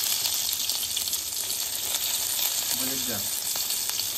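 Onion sizzles and crackles in hot oil for tempering a Malvani mackerel curry, a loud, continuous frying hiss close by, with a brief spoken phrase partway through.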